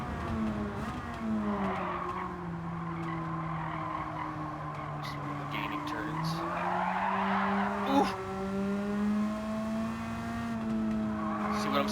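Race car in a racing video game on the Trial Mountain circuit, a steady engine drone with rising and falling pitch and tire skidding throughout, loud and continuous with voices talking over it.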